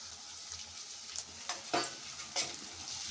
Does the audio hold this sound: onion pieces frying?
yes